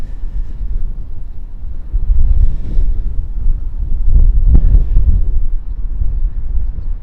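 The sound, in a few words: strong wind at Auckland Airport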